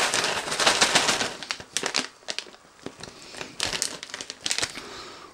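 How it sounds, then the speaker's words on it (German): Opening a Knorr Spaghetteria pasta ready-meal packet: close, loud crinkling and crackling of plastic wrapping in irregular bursts and tears, with quieter gaps in between. "Jetzt machen wir ja die Tüte auf."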